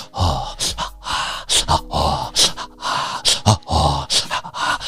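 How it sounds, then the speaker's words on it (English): Heavy rhythmic breathing in a 1980s electro hop song, repeated gasping breaths falling in time over a thumping beat and bass, loud and upfront in the mix. "Every other song in the 80s had heavy breathing."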